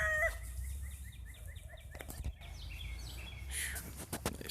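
Chickens and roosters on a small backyard flock, a busy run of clucks and squawks with a crow rising partway through, over a low outdoor rumble.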